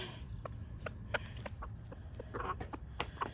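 Backyard chickens and a rooster clucking over scattered seed, a run of short, bright clucks and chirps at a moderate distance against a steady low outdoor rumble, with no talking.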